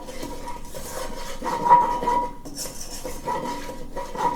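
A utensil clinks and scrapes against a bowl while soy sauce and honey glaze is mixed for crispy tofu, steady close clatter with a brief louder knock midway, no talking.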